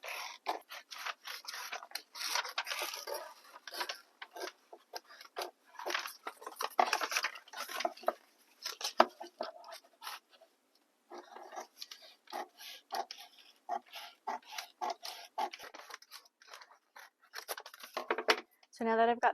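Scissors snipping through a paper stays corset pattern piece, a close run of crisp, irregular cuts and paper rustles with brief pauses.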